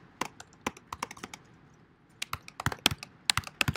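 Fingers type code on a computer keyboard, producing scattered, crisp key clicks in uneven bursts that grow quicker and denser toward the end, close and quiet with no talking.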